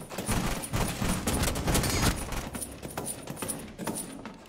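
A rapid volley of video game gunshots crackles in dense bursts, loud at first and then thinning into scattered, sharper shots with a faint metallic ring.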